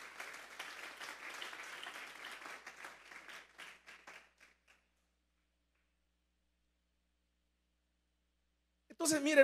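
A church congregation claps for the Lord, a few seconds of fairly faint, scattered applause that tapers off into silence before a voice returns.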